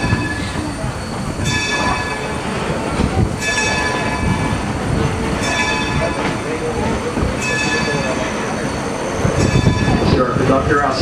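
Steam engine 26 backs up at Steamtown in Scranton, a close, continuous heavy rumble of rolling rail equipment with repeated metallic clanks and squeals, while a voice speaks in the background.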